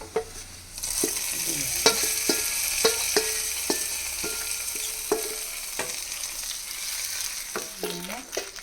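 Fried seasoning hisses as it is poured into a mango curry, a steady close sizzle broken by repeated sharp clinks and scrapes of a spoon against the pot.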